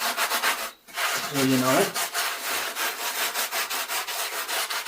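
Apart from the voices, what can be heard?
smoothing off and cleaning a wall surface by rubbing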